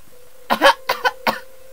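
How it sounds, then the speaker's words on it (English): A character in Slendytubbies 3 coughs three times in quick succession, close and clear against a quiet, faintly humming game background. "Oh no, Lala's coughing."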